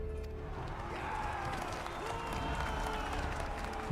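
A crowd in the Final Fantasy XIV video game cheers and applauds at a fairly low level, a steady roar of clapping and shouting that holds for several seconds.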